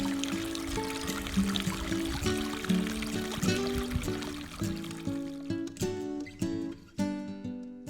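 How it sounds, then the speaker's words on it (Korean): Meltwater from a thawing, snow-covered stream trickles and pours steadily, close and fairly loud, with gurgling splashes and bright droplet plinks growing more distinct toward the end; no voices. "얼어붙은 시냇물이 따사로운 햇살에 조금씩 녹아 흐르면서 봄을 맞이하는 소리가 들려옵니다"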